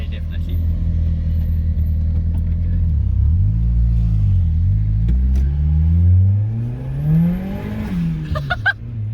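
A turbocharged Mazda Miata, rated at 200 wheel horsepower, revs at half throttle up close with a deep, loud rumble that swoops up and down several times before a higher whine rises. Brief talk comes at the very end.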